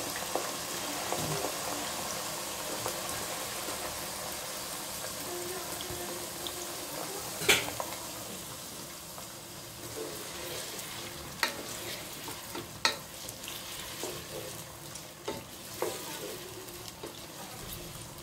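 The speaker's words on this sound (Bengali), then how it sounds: "এখন আমড়াগুলো দিচ্ছি তেলের মধ্যে।" Hog plums (amra) hit hot oil and fry, a steady, close crackling sizzle with scattered clinks and scrapes of stirring.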